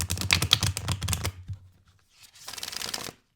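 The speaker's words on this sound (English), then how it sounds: "It's such a satisfying shuffle" An oracle card deck is shuffled by hand close up: a rapid riffle of crisp, fluttering card flicks, a short pause, then a second quick burst of shuffling.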